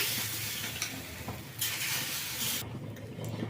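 Egg paddu batter fries in oil in a paddu pan with a steady broadband sizzle, a few brief stirring scrapes and splutters over the top, close and alone with no voices.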